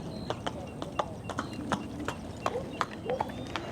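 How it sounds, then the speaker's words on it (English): Horse hooves clip-clop across a bridge ahead, a run of distinct hollow knocks in uneven rhythm, moderately distant beneath a steady outdoor hum with no talk. "looks like we got a horse up ahead crossing the bridge"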